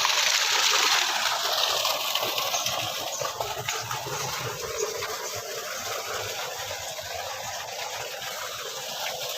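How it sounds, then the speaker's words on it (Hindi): Water supply gushing and rushing steadily through a village pipe outdoors, a broad continuous hiss that starts strongest and settles slightly, with no voices over it. "ये पानी की सप्लाई जा रही है सारी।"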